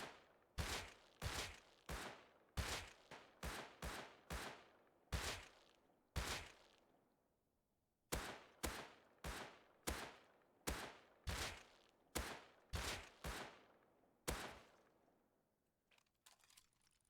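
Gunfire in the video game Rust: short bursts of sharp, loud shots in quick tap-fire clusters, separated by brief pauses, with no talk.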